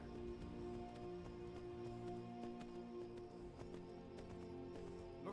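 A horse galloping in the Skyrim video game, with quick, regular hoofbeats clip-clopping under a soft, sustained tonal background.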